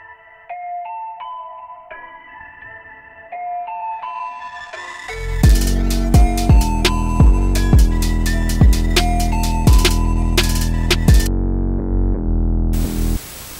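A melodic lead plays alone at first, then a trap beat kicks in with booming Serum-made 808 bass slides, hi-hats and snares, ending in a burst of noise.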